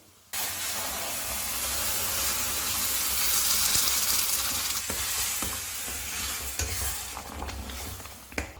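Corn rava being added to boiling water in a pan and stirred, giving a steady hissing, bubbling sizzle close by with a few soft scraping knocks from the spoon, no talking.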